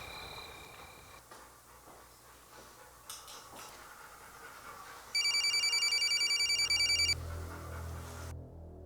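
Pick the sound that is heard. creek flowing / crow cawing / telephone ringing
telephone ringing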